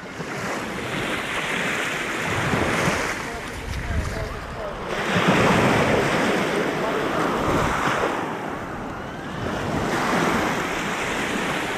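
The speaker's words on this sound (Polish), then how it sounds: "nie ma tu głośnej muzyki, cisza, tylko szum morza" Sea waves at Kalamaki beach on Zakynthos, Greece, surging and breaking in broad swells about every three to four seconds, with steady wind rush over the microphone and no voices.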